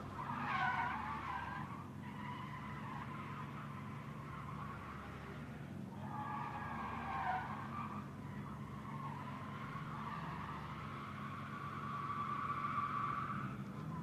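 A BMW E46 drift car slides through a drifting competition course at Gardermoen Raceway, its tires squealing continuously for long stretches over a steady engine roar, heard from a distance.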